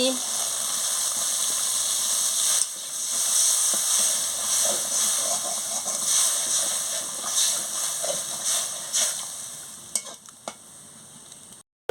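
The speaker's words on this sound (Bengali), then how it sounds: "ঘর ঘর করে ফুটছে" Elephant apple (chalta) raita with chilli powder, salt and water boiling in a pot, a steady close bubbling simmer with faint clinks and stirring, continuing evenly throughout.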